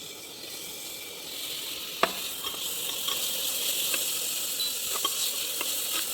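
Cut tomatoes frying in a pan for hostel-made pasta, a soft, fairly faint sizzle with scattered clicks and taps from stirring.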